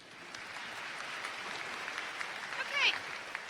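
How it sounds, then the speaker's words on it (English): An audience claps at a high school graduation ceremony, a soft, steady patter of applause with a brief brighter swell near the end and faint voices mixed in. "You can clap for that."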